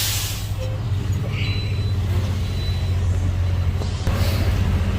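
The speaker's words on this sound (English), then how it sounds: "release my trailer brakes, reset my trailer brakes" Truck air brake hiss from a Prime tractor-trailer releasing its trailer brakes, a steady loud rush of air over a low idling diesel rumble, sustained without a break.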